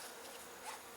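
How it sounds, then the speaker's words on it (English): Honey bees buzz in a dense, steady drone around beehives during an early October inspection, with many insects hovering and robbing near a neighbouring hive, a faint continuous hum with no voices. "all the bees that you see hovering around over here, like over here, are all trying to get into the next hive"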